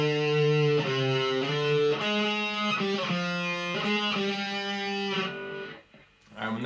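Distorted guitar playing a riff, a sustained rhythmic figure of repeated notes with steady attacks, loud and close, cutting off near the end.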